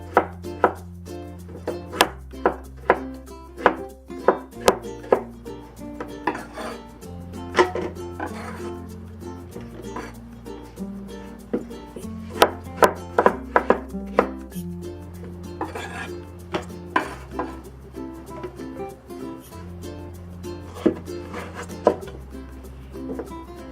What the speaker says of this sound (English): Cut it into like 1/2-inch chunks.